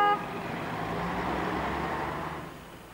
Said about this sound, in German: Motor abgewürgt und hinter uns dichter Verkehr.